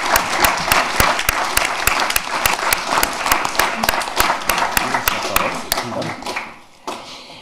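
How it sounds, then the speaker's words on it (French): Applause for a prize winner at a LICRA award ceremony: dense, lively clapping from a hall audience with sharp individual claps standing out, dying away in the last second. "Je vous demande de l'applaudir."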